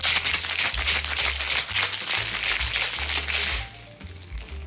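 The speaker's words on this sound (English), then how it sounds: "we'll add some ice to this and then give it a wet shake" Cocktail shaker with ice given a vigorous wet shake, a steady loud rattling and sloshing that fades near the end, with no talk.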